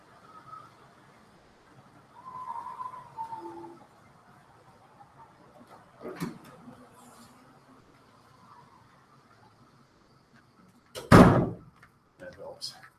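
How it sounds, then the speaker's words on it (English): A door is kicked shut indoors, one loud close slam near the end after quiet stretches of faint room noise, a few small knocks and brief talk. "Maybe I'll just kick the door closed."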